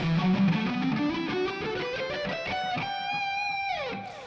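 A distorted electric guitar runs up an E natural minor scale in quick alternate-picked single notes, ending on a held, ringing note that slides down.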